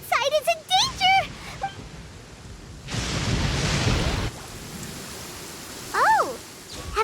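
Thunderstorm in Genshin Impact: a broad, rushing burst of thunder and rain rises abruptly, holds for over a second, then fades into a soft rain hiss, with high character voices before and after.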